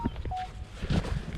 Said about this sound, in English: Ooh, that's my phone. I got a message in my phone